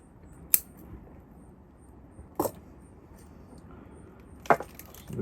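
Scissors snip through strings tying together a clump of trident maple bonsai, three quiet separate cuts spaced a couple of seconds apart against a near-silent background.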